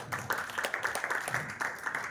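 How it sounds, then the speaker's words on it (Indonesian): Audience clapping at an office business presentation in Indonesia, a short, fairly faint burst of many hands with an uneven, crowded rhythm and no talking over it. "Tepuk tangan buat company Bapak Ibu."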